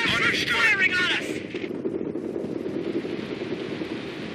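Gunfire and battle noise rumble in Company of Heroes, a World War II strategy game, beneath a radio-style voice, then a steady dense crackle of distant shooting continues.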